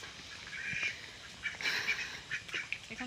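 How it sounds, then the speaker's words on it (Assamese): Ducks in a duck pen at a rural home in Assam, their quacks and honking calls coming in short bursts near and clear over faint outdoor background. "এয়া হাঁহৰ গঁৰাল"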